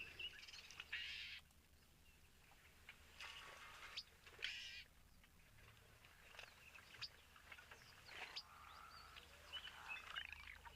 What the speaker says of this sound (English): There are lapwings, there's crows.